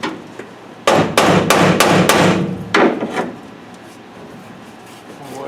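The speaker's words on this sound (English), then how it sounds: "Put a screwdriver in it. Pound on it. Beat on it." A hammer pounds a screwdriver into an old rusty screw on a 1938 GMC, giving about six sharp metallic blows in quick rhythm, then one more strike, loud and close, with some voice nearby.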